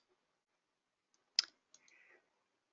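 A single sharp click of a computer mouse, close and isolated in near silence, followed by a faint rustle of movement.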